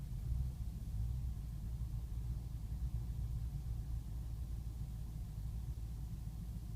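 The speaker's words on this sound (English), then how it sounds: "Looks like the engine's trying to settle down." BMW E63 645ci engine idling roughly, a steady low rumble with a slightly uneven throb, continuous and fairly close with no talking.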